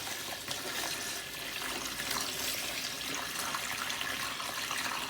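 Dechlorinated water pours steadily into a tub for a frog rain chamber, a continuous bright splashing hiss that stays even throughout.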